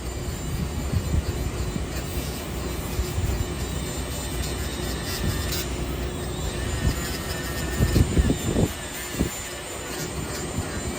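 A small whiz puck abrasive disc on a spinning tool grinds against an aluminum lawn mower cylinder head, cleaning old gasket material off the surface with a steady, gritty whir and a few louder scraping bursts near the end.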